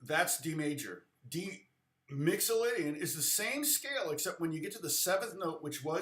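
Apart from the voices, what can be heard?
None of the usual background noises is heard.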